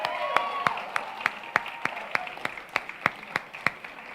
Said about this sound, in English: let's give them a round of applause, you guys